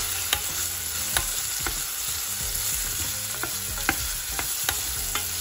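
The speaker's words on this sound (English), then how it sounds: "So in this spoon, I have cinnamon stick, cloves, peppercorn, and cumin seed. So it's going to fry with the onion." Whole spices (cinnamon stick, cloves, peppercorns and cumin seed) fry with onion in hot oil, giving a steady close sizzle punctuated by sharp spoon clicks and stirring scrapes throughout, with no talking.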